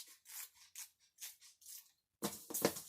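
Scissors snip and trim thread on a fishing fly, a quiet close series of short crisp cuts followed by a louder pair of snips at the end.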